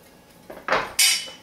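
A spoon mixes tuna salad with turmeric and cayenne in a bowl, giving a few quick close clinks and scrapes that grow louder over a second or so; no talking.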